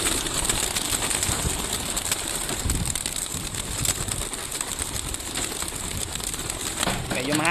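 Racing pigeons freed from a training box on a breezy outdoor release, with steady cooing and wing flutter over constant wind noise.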